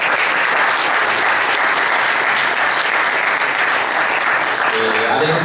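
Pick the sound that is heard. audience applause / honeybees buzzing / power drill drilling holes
audience applause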